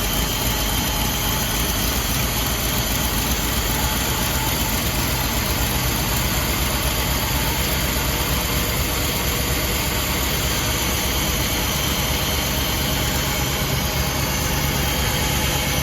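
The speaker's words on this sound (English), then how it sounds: "here we are at the tailpipe, just listening to the idle" A 1961 Rolls Royce Silver Cloud II with a rebuilt distributor idles, heard up close at the tailpipe as a steady, even, continuous engine hum with airy exhaust noise and no talk.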